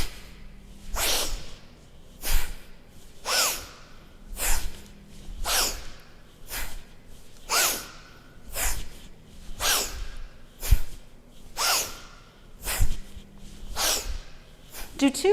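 Forceful rhythmic yoga breathing paced with arm movements, about a dozen strong whooshing breaths roughly every second and a half, close and clear with no talk.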